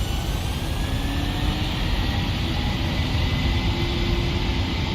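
Loud, steady jet engine roar of a Boeing 737 on its takeoff roll in the Prepar3D flight simulator, a constant broadband rumble that holds without break from start to finish.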